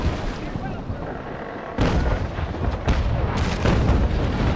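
Enemy ship's cannons fire in the naval battle game Naval Action, a series of heavy booming shots rolling over a constant wash of sea and wind, with someone talking over the gunfire.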